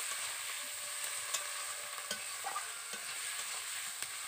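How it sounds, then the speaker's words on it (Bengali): Tomatoes with salt sautéing in a pan, giving a steady soft sizzle with light occasional stirring taps, fairly quiet and close, with no talking. "ভালো করে কষে নিচ্ছি"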